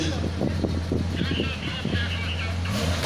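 A Porsche 911 SC rally car in a historic rally, its engine droning steadily and fairly close, under continuous commentary.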